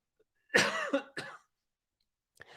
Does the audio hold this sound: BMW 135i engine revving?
no